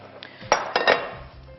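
Dishes clink as a bowl is taken out in a home kitchen: a few short, bright knocks and rattles of crockery close by, then quiet.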